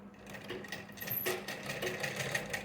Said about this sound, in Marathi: राऊंडची टीप मारून घ्यायची आहे अशा पद्धतीने